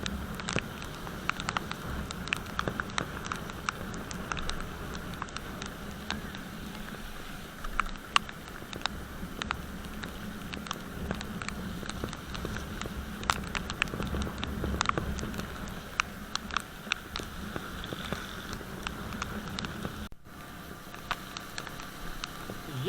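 Heavy rain falls during a motorbike tour on a CD 70 between Murree and Kashmir, a dense, continuous hiss with scattered patter and rushing wind, steady for the whole stretch with no talking.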